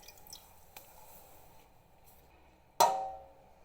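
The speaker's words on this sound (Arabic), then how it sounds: "هبدأ اصفي بقى الشرش من الجبنة لحد الجبنة كلها ما تلم معايا." Whey strained from homemade cheese in a cloth falls with one sudden wet splash, preceded by faint quiet drips and a low background hum.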